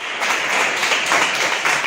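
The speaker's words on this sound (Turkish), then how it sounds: "Onlarca avukat Bilecik Adliyesi'nde bir araya geldi. Alkış çalarak yürüdü." Dozens of lawyers clap steadily while marching together at the Bilecik courthouse, a thick, continuous wash of crowd applause throughout.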